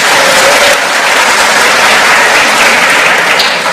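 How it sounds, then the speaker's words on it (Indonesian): Loud, dense applause from a church congregation celebrating a men's fellowship service, steady crowd clapping throughout with no one speaking over it. "Kita tepuk tangan dulu, tidak apa-apa."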